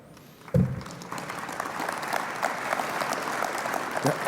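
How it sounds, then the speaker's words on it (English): A conference audience applauds steadily for Chicago Mayor Rahm Emanuel at the ULI Fall Meeting 2013, a dense wash of many hands clapping that starts abruptly after a brief thud and holds at an even level to the end. "From all your applause, I get it"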